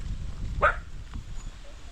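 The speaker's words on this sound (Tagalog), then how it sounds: "Ito na may mga aso inaabangan ako oh" Dogs in the Philippines waiting on a road: a single short, sharp yelp or bark stands out briefly over low outdoor rumble, with faint background noise and no other clear barks.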